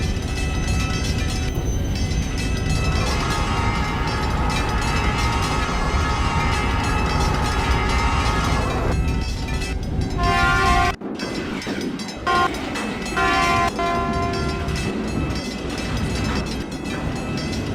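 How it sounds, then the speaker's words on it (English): An East Texas Bullet train rolling into Virginia Beach station in the Trainz simulator, a loud continuous rumble of wheels and motors with a sudden cut and shift midway, then braking tones as it slows. "Now arriving on track 2 is an East Texas Bullet to Washington"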